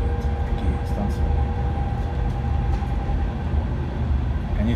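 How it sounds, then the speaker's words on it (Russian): A suburban electric train pulls out of a station toward Paris, heard from inside as a steady loud rumble and low hum with faint squeals and clunks, while someone talks over it. "Отправляемся со станции. Начинаем свое движение в Париж."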